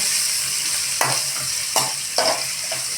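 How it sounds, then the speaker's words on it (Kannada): Garlic and ginger paste frying in a pan, a continuous sizzle broken by three or four scraping stirs, close and fairly loud. "ಈಗ ಇದಕ್ಕೆ ಬೆಳ್ಳುಳ್ಳಿ ಮತ್ತು ಶುಂಠಿ ಪೇಸ್ಟನ್ನು ಹಾಕಿರಿ"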